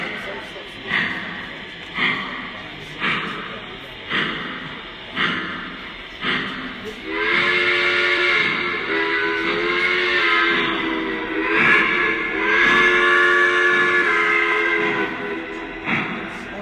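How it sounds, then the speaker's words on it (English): A Lionel Pennsylvania K-4 model steam locomotive with a long haul tender chuffs in steady rhythmic bursts, then shifts into a continuous whistle-like hiss with a fuller, deeper tone, loud and close, with a voice talking over it. "you'll hear the sound of the chuff getting deeper"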